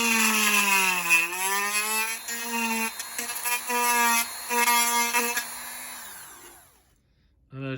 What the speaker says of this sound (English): Just turn the Dremel up a little bit.